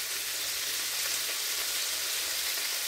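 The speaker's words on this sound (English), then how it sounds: "They're starting to sizzle." Continuous bright sizzling of food frying in a hot pan, steady and close, with no voices.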